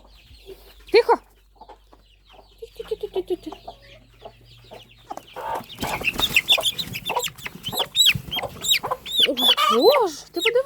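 Chick and hens clucking and squawking as a chick is chased and caught in a farmyard, sparse calls at first and then a dense, louder burst of agitated cries and shrill peeps.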